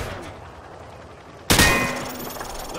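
Loud weapon fire at a shooting range in Call of Duty, a sudden sharp burst midway that rings into a dense, sustained roll of gunfire after a quiet, low rumbling stretch.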